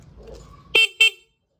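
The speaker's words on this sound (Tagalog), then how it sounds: "Okay na yung busina natin ha." Two short, sharp motorcycle horn honks close by, the first slightly longer, followed by silence; faint background noise before.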